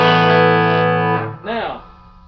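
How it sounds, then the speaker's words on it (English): An electric guitar through the clean channel of a Bolt 100 watt combo amp with spring reverb rings out a sustained, loud chord that decays, followed by a brief plucked note with a wobbly reverb tail. "So, in this one, I've got the spring verb going."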